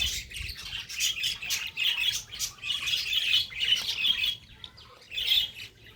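Lovebirds in a small colony chirp and squawk continuously at close range, with overlapping high, shrill calls in rapid bursts and brief lulls, and no talking.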